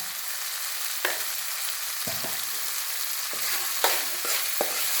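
Cauliflower fry being stirred in a pan with sugar just added, a steady sizzle broken by several distinct spatula scrapes and knocks against the pan.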